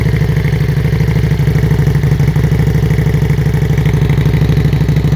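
A Harley motorcycle fitted with a Firebrand muffler idles high and steady, its deep, rapid exhaust pulse loud and continuous with light mechanical clatter throughout.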